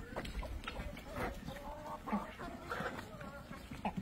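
Free-range hens cluck and squawk on a farm with ducks nearby, a busy, close flock sound with scattered calls over rustling, and a voice speaking briefly.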